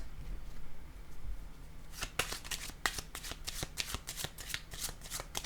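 Deck of cards being shuffled, a quiet start followed by a run of crisp riffling flicks and taps, close and fairly soft, with no talk over it.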